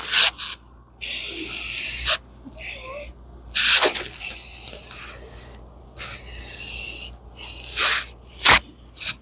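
Primer sprays in long hissing bursts onto a utility gator being turned into a Dodge Ram, close and fairly loud, with short gaps between passes.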